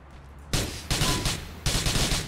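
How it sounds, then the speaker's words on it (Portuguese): Bursts of gunfire aimed at car tires in the video game GTA 4, three loud volleys of rapid shots with short gaps between them and no talking. "Vamos dar tiro no pneu. Tiro no pneu."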